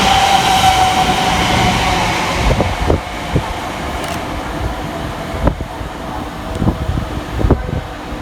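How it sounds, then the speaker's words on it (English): A Greater Anglia passenger train from Ipswich to London Liverpool Street pulls into a station on the Great Eastern Main Line, with a loud, close rolling rumble, a brief squeal and rhythmic wheel clacks over the joints. "Next to arrive into the station will be the 1211 Greater Anglia service from Ipswich through to London"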